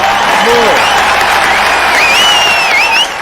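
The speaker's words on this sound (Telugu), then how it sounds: "మళ్ళీ చప్పట్లు." An audience at a farmers' rally in a Telugu action-comedy film breaks into loud, sustained applause and crowd noise that continues throughout, with voices calling out over the clapping.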